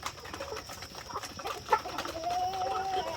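Meat-type chickens, including a Barred Rock and game fowl, cluck and call in a backyard flock, a few short clucks followed by a rising drawn-out call, fairly close and alone without talk.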